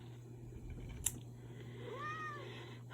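A faint, short cat meow rises and falls once over a quiet room hum, preceded by a small click.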